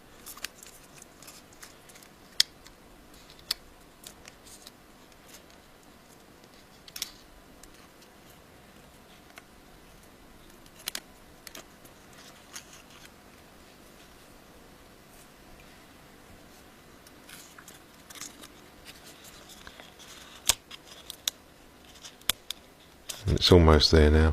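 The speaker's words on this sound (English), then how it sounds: "Just keep pushing that plastic frame away from the screen" Plastic frame being pried away from an iPhone 5 screen during a screen repair: sparse, faint clicks and small snaps spread across a quiet background with brief talk, ending in a louder burst of handling noise.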